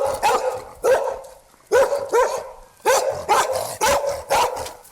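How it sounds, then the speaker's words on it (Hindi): A dog barks on a street in repeated loud, close bursts, roughly half a dozen short barks with brief gaps between them, played as a sound effect with no talking. "सड़क पर कुत्ते की भौंकने की आवाज"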